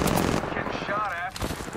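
A short burst of automatic gunfire in Apex Legends, rapid shots rattling close over in-game noise for under two seconds.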